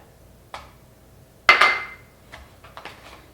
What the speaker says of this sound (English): we've got our pastry cutter. And so I'm just going to mix that just a little bit.